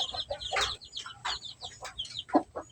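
Domestic chickens cluck and chatter in short, close, overlapping bursts while being fed corn bran mixed with rice.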